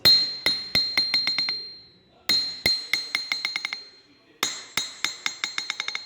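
A hammer strikes an anvil made from a forklift fork, giving three runs of sharp metallic strikes, each run starting hard and bouncing into quicker, fading rebounds with a bright ringing tone.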